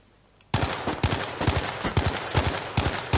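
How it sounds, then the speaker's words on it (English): Artillery fire in a PS4 video game, opening after a brief quiet moment into a rapid, loud barrage of overlapping blasts that continue without pause, heard up close. "they fired our artillery"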